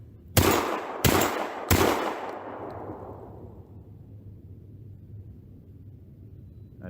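An autoloading shotgun fires three loud, sharp blasts of 00 buckshot or slugs at roughly even intervals outdoors, each shot ringing out into a long fading echo, with no talking.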